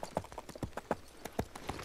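Horse hooves clip-clop in a steady, uneven walking rhythm, around a dozen distinct close knocks over a short stretch, heard alone with no talk.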